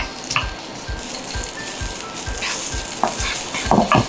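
Bamboo shoots and garlic stir-fried in a hot pan, a steady close sizzle with repeated scraping and tossing strokes of a utensil against the metal.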